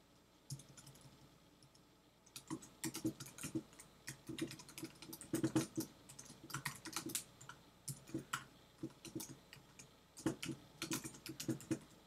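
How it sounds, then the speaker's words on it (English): Quick, uneven bursts of keys clacking on a computer keyboard, close up and alone, with short pauses between flurries. "You just start typing."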